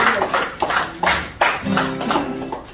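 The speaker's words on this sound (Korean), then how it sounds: "박수 한번 쳐주세요." Scattered audience clapping at an indoor gathering comes as a handful of separate, uneven claps spaced apart, with a faint tonal voice-like sound in the background toward the end.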